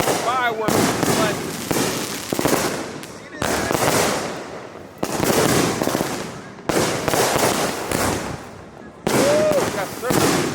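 Sustained Fourth of July fireworks barrage in an Allentown neighborhood, with repeated loud crackling volleys in rhythmic waves about every one and a half seconds, and people shouting and talking throughout.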